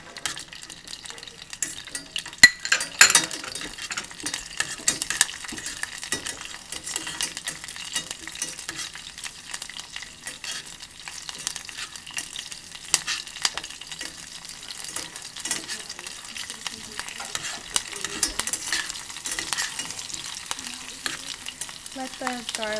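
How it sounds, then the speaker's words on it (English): Garlic, rosemary and thyme sizzle in oil in a small saucepan, a soft, steady crackle of frying broken by intermittent stirring and clinks of a utensil against the pot. "Let the garlic and rosemary and thyme cook a little bit in the oil before you add the broth"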